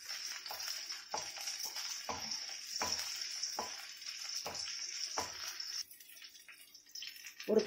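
Kashmiri chillies fry in a pan for garlic dosa, a close, bright sizzle with a run of regular spoon scrapes and stirs about once a second, the sizzle easing near the end.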